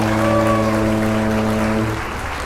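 A crowd-cheer sound effect plays on a flight-simulator livestream, a loud sustained burst of cheering laced with tonal whistles that fades out near the end, with no talking.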